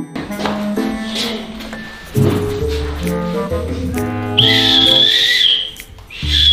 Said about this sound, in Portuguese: Você decidiu me torturar usando um apito?